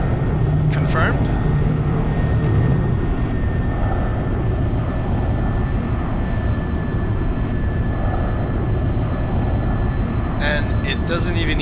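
A jet airliner's engines roar at takeoff power in X-Plane 11, a loud, steady, broadband rush that persists throughout, with a pilot's voice speaking briefly over it.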